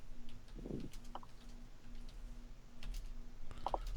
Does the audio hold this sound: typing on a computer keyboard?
yes